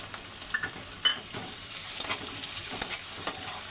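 Chopped tomato and onion frying in a pan for a spring onion dry sabzi: a soft, continuous sizzle broken by several sharp scraping stirs of a spoon against the pan.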